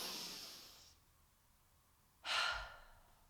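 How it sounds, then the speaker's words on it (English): Two close, breathy inhalations from a singer filling the chest: a soft airy breath fading out, a short pause, then a sharper, louder intake that tapers away. "We're going big in the chest and we start to breathe in like."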